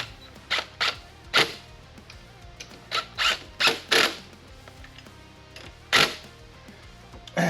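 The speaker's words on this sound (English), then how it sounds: "what I'm doing now is I'm tightening up our pulley puller." Pulley puller being tightened on a car engine in a cramped engine bay, a series of short metallic ratcheting clicks and turns in irregular bursts, close and distinct, with quiet pauses between.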